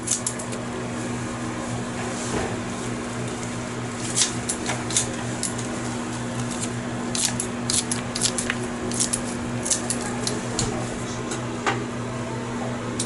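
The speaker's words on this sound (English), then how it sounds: "I'm just gonna snip some mint and basil leaf" Scissors snip mint and basil leaves, making repeated sharp close clicks at an irregular pace over a steady background hum, with no talking.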